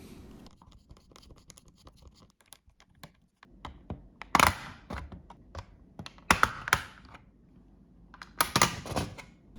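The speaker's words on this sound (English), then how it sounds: "It's just a few screws to release the backplate." Small screws being backed out of a Steam Deck backplate with a screwdriver, heard as close, sharp scratchy clicks and ticks that come in short bursts with pauses between them, with no talk over it.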